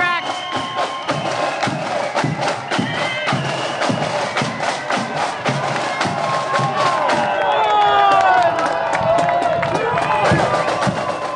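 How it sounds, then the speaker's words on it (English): A large street crowd at a Twelfth parade in Northern Ireland cheers and shouts for the Pride of Ardoyne marching band, a dense roar of voices and whoops, with drumbeats and band music running through it. "Pride of Ardoyne is getting a huge reception."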